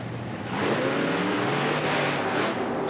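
Ford and Chevy monster trucks rev hard side by side at the start of a race inside the Houston Astrodome in 1992, a loud, dense engine roar that surges in after a brief quieter lead-in and holds strong.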